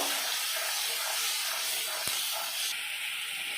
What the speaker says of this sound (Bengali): দিয়ে দেবো জিরে কাশ্মীরি লঙ্কা ধনে গুঁড়ো দিয়ে ভালো করে নেড়ে চেড়ে নেব